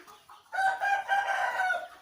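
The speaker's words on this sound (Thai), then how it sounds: "อันนี้ก็จะเป็น ไก่ชนนะคะ" A fighting rooster crows once, loud and close, in a drawn-out call of about a second and a half, with no talking.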